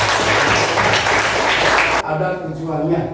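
Students in a classroom break into a short burst of clapping for a classmate, which stops abruptly before a voice begins speaking.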